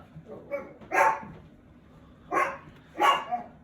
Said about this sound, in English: He's a noisy dog, definitely.